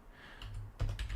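A short run of computer keyboard keystrokes entering an ipconfig command, a few soft clicks followed by a firmer cluster of close key presses.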